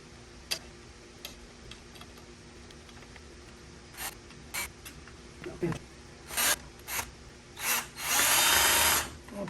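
A Ryobi drill drives screws while a three-level shelf is assembled, giving short whirring bursts that build to a longer sustained run near the end, set among quiet ticks and rubbing handling noises close by.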